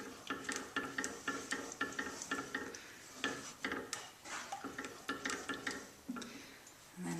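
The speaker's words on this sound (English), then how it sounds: "I'll stir that olive oil in again." Olive oil being stirred into a tomato sauce for meatballs in a pan, with a steady run of short scraping and clinking stirs against the pot under a soft sizzle, close by and with no talking.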